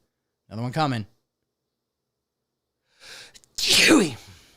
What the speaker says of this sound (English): Those are really just 2 very powerful sneezes.